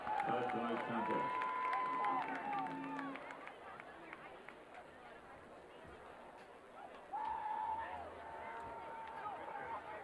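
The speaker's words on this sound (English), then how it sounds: "let's have a round of applause upon you reenter the field for the second half of tonight's contest." A crowd applauds and cheers at a high school football game, Wyomissing Area against Lampeter Strasburg, as the Spartans re-enter the field for the second half. The steady broad crowd noise runs throughout, with band-like tones sounding over it at the start and again near the end.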